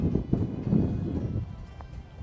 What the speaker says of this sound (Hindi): बहुत ही तेज हवा आई एकदम से ना झोंका